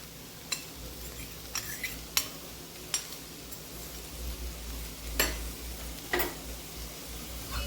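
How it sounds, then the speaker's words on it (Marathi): French beans cook in a pan, with sharp utensil clinks and scrapes of stirring scattered over a soft, steady background hiss; no voices. "आता बीन्स आपण 5 ते 6 मिनिटं शिजवून घेणार आहोत"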